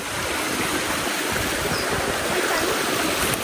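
Steady rushing water flows without a break down a stream with a waterfall, a broad continuous wash, fairly loud and close.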